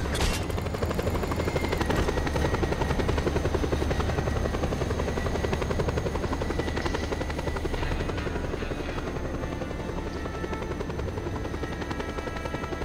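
A helicopter in Just Cause 2 flies steadily overhead, its loud, continuous rotor thrum and engine whine filling the whole stretch without a break.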